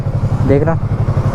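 Yamaha YZF-R3 sport motorcycle with its stock exhaust, running at a steady pulsing idle close by, with a brief spoken word over it.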